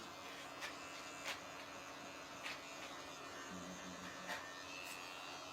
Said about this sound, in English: same thing with these edgers. I'm going to do the lineup